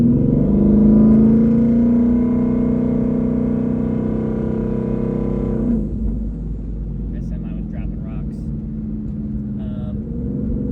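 A twin-turbo 2020 Ford Shelby GT500 with a TH400 transmission swap drones loudly while driving, its engine note rising briefly, then settling into a quieter rumble in the second half with a few faint clicks.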